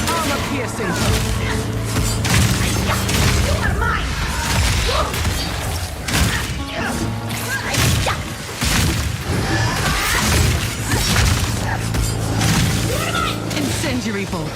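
Crossbow firing armor-piercing bolts during a mini-boss fight against Li'im the Impaler in Path of Exile 2, a dense barrage of sharp thuds, impacts and clattering shots over game music, with a voice speaking over the action.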